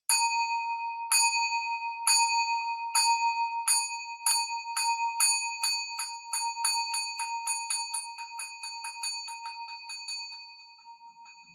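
A bell struck for an evening bell chant, starting with slow, loud, widely spaced ringing hits that speed up into rapid, quieter strikes before the last tones fade out.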